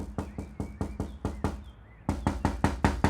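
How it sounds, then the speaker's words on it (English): A door is knocked on repeatedly and loudly, a rhythmic run of sharp raps that pauses briefly before a faster series of knocks resumes. "Etha answered the door on the third knock"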